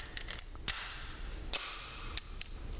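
A .45 ACP pistol being loaded and readied, giving a few sharp metallic clicks and snaps spaced across a couple of seconds, close up with no talk.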